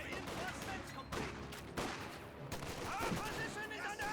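MG42 machine gun bursts from a Company of Heroes 2 battle crackle over a busy backdrop of distant gunfire and explosions, several rapid volleys at moderate loudness.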